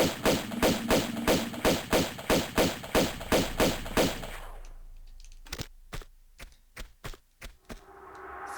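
Pistol gunfire in Tomb Raider: a rapid, steady volley of about fourteen evenly spaced shots, then a pause and a few scattered single shots, loud and close with no talking.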